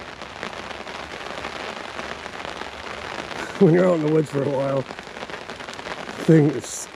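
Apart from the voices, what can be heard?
rain pouring off roof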